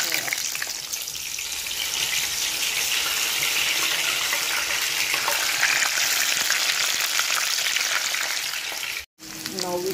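Bitter gourd fries in hot oil with a dense, continuous sizzle and crackle that fills nearly ten seconds, loud and close, cutting off briefly near the end.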